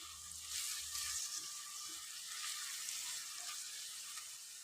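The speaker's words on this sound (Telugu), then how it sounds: "ఇప్పుడు చికెన్ అయితే మంచిగా ఇట్లా ఆయిల్లో అయితే మంచిగా ఇట్లా ఫ్రై అయిపోయింది" Chicken fries in oil in a pan, a soft, steady hiss of sizzling with faint bubbling, heard alone and fairly quietly.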